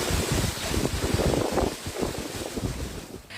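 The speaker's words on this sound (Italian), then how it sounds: "Anche sui social si sono susseguite le segnalazioni e le foto dei danni provocati dal forte vento." Strong, gusty wind buffets the microphone during a storm that caused damage across the Treviso province in Italy, roaring loudly and continuously with surging peaks and no voices.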